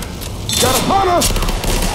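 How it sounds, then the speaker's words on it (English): Gunfire in Left 4 Dead 2 crackles in quick bursts across two seconds, mixed with game noise and a voice speaking over it. "Quit shooting me."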